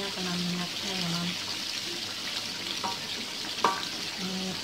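Silken tofu frying in hot oil in a pan, giving a steady, moderate sizzle with occasional light stirring clatter, while someone talks over it.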